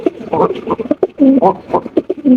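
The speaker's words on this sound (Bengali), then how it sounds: "রয়েছে আরো একজোড়া গোল্লা কবুতর আপনারা দেখতেই পাচ্ছেন" A pair of gola pigeons at a pigeon market, soft low cooing calls repeating in short bursts close by, mixed with nearby voices.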